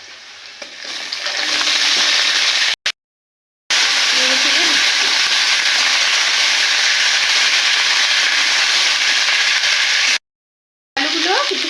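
Potatoes, drumsticks and ridge gourd sizzling in hot oil with fried onions, a loud, steady hiss that runs almost without pause and cuts out briefly twice.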